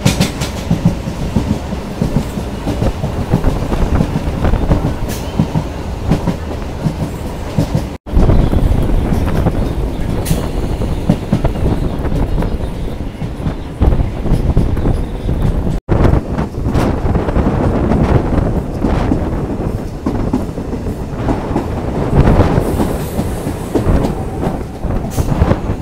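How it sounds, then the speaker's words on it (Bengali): Local train on the Bangaon–Ranaghat line, Eastern Railway, rolling on after leaving Akaipur station: a steady, loud rumble with rhythmic clickety-clack of wheels over rail joints and wind buffeting the microphone, continuous throughout with no talk. "তো ছেড়ে দিল আমাদের ট্রেনটি আকাইপুর স্টেশন থেকে"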